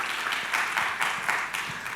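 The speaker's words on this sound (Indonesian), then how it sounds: "Tepuk tangan bagi Allah kita," A church congregation at a Sunday service claps together in rhythmic, evenly spaced bursts, a steady beat of many hands filling the room.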